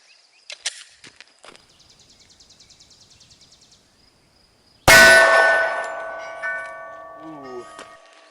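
A Glock 21 pistol fires a .45 ACP round at a steel armor plate: faint ticking, then one loud, sharp report with a bright metallic clang that rings and slowly fades.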